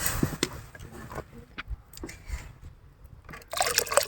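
Water splashes and trickles into a cooking pot of kadhi batter in short bursts, fairly close, with small clinks and a fuller pour near the end.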